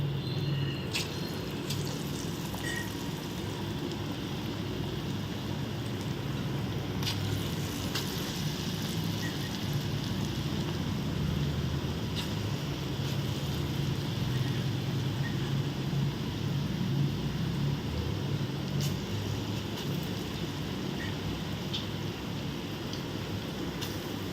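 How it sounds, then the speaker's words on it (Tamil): Small lentil dough balls deep-fry in hot oil for vada curry, a dense, steady crackling sizzle with scattered tiny pops, constant and close. "நல்லா பொறிஞ்சு வரட்டும் இப்போ இதை வந்து திருப்பி போடுவோம்"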